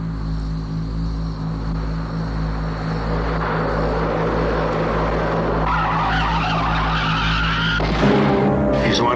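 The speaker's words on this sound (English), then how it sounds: "that's what I heard just before the tire blew out" A car's tire blows out and the car skids in the thriller Blow Out: a long, loud tire screech over a low engine drone, ending in a sharp burst near the end.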